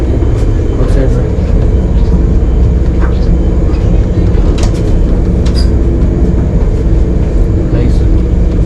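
A train rolling through snow and ice in Russia, heard from inside the carriage as a steady loud rumble with faint clicks and rattles over the rails, while a person talks over it.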